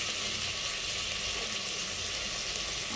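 Tomatoes sizzling steadily as they fry in a hot pan in a home kitchen, a constant loud crackle and hiss with no talk over it.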